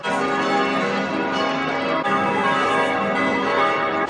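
Several church bells in Frankfurt, Germany ring loudly together in a continuous, overlapping peal with dense ringing tones and no pauses.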